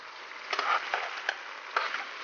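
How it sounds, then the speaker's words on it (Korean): Sesame oil and chili oil drizzled over chili shrimp in a pan, a soft steady sizzle punctuated by a few brief clinks and stirring scrapes. "참기름하고 고추기름을 살짝 삥 둘러 또 넣어줍니다"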